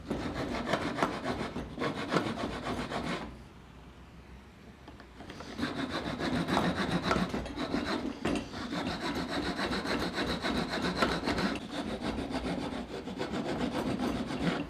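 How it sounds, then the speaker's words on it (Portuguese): A fine rasp files a wooden half-lap cross joint with steady, rhythmic rasping strokes up close. The strokes pause briefly partway through, then resume. "Eu posso no formão ou eu posso acertar na grosa, com a grosa mais fina, é claro, para deixar ele perfeito"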